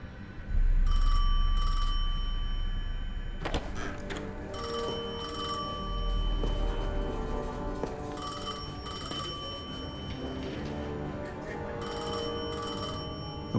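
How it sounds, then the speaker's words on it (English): A telephone rings in the video game Destiny 2, a bright electronic bell repeating in steady bursts over a low droning ambient score, fairly loud and close. "I felt the ringing more than I heard it."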